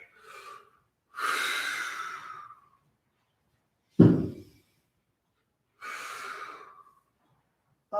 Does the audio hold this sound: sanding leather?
no